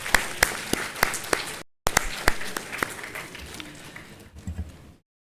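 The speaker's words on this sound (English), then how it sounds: "Let's have a big round of applause for all of you." Crowd clapping at a mechanical engineering graduation ceremony, with sharp, separate hand claps standing out over a softer wash of applause. The sound cuts out briefly, resumes, then fades away.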